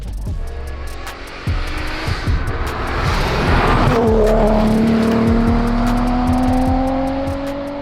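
A Golf R32 tuned to 1200 hp roars past at high speed, engine rising loudly and then sliding down in pitch as it speeds away, with no talking.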